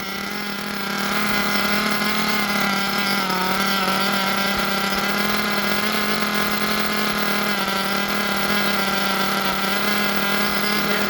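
A small nitro engine screams at high idle during break-in, a constant loud buzzing whine with slight wavering in pitch, heard alone without talk.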